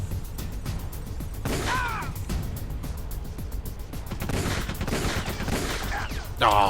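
Gunfire from Metal Gear Solid: The Twin Snakes rings out in loud, repeated shots over a steady game soundscape, with a few bursts clustered near the start and end, close and punchy.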